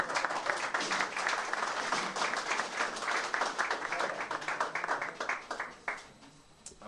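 An audience applauds at a 1989 photo exhibition opening in Latvia, a dense burst of hand clapping that thins into scattered claps and fades out.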